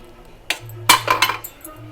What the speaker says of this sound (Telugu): ఇప్పుడు నేను ఇంట్లో క్యాష్యూస్ వేసేస్తాను